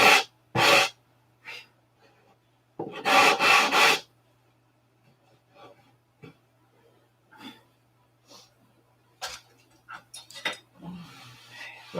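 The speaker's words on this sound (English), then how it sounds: "So I need to sand this side here" Sandpaper scrubs on an aircraft cowl in short bursts of rough, close rasping, two strong strokes early then scattered lighter rubs and pauses.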